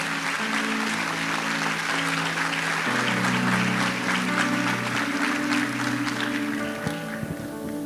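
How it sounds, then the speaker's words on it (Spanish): A church congregation gives a strong round of applause, steady and loud, over sustained instrumental tones that shift partway through; the clapping thins toward the end. "Vamos a darle un fuerte aplauso a los pastores"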